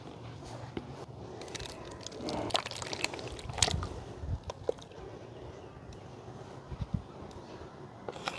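Thick milk cream being poured and scooped into a large vessel while making desi ghee, with wet squishing, glugging and dripping sounds close by, coming in uneven bursts.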